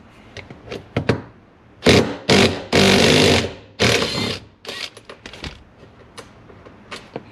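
A power ratchet backs bolts out of an Infiniti G35 interior in several loud, close whirring bursts, one held longer than the rest, scattered among clicks and handling knocks.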